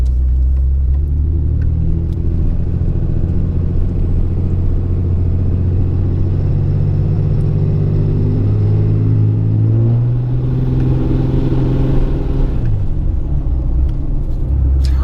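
A turbocharged car engine hums steadily and builds as it accelerates up a hill, a faint high turbo whistle rising over the low rumble, with a brief shift in pitch near the end.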